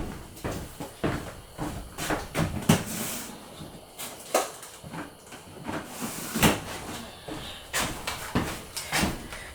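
A wooden drawer in a home workshop is pulled open and rummaged through for wooden pegs, giving a series of sharp knocks, slides and clatters at close range with short pauses between them.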